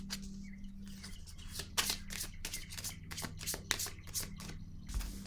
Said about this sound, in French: Je vais piger une autre carte pour avoir des détails ici